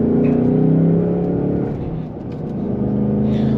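A 2024 Ford Mustang GT with a Coyote V8 and manual gearbox, running with no exhaust fitted, revs with a deep throaty drone that rises, dips and then climbs again close by.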